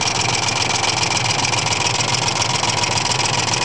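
A 2001 5.4 liter engine idles loudly and continuously nearby, with a steady rhythmic tapping noise running through the low rumble.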